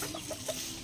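Hens clucking faintly in a short burst of soft, repeated low clucks at close range.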